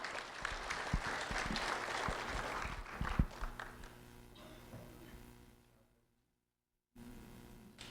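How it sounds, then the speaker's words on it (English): A small audience at a Sheriff's Office recognition event claps for a second-grade student, a scattered round of applause that fades out, followed by a brief silence and then quiet room tone. "a round of applause for Joshua Zavacki, please."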